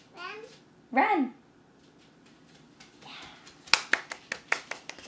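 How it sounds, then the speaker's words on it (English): Slippers slap on the floor in a quick run of sharp, close smacks near the end, following a child's vocal sounds earlier. "Those sure do make a good noise, these slippers."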